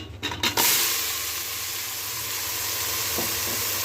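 A masala paste of three onions, coconut, ginger and garlic, added to plenty of curry leaves for misal pav, hits hot oil with a few sharp spluttering bursts, then settles into a loud, steady sizzle with no talking.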